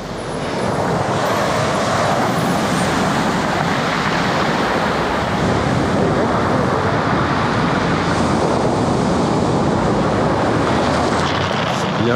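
Sea waves wash steadily onto the beach at Dieppe, a dense, continuous roar of surf and wind, loud and close throughout with no voices.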